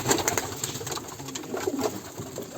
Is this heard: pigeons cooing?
yes